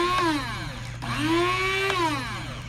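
An electric grinder whirs through nettle gomasio with seaweed, its motor pitch sweeping up and down in a few short, close bursts, with no voices.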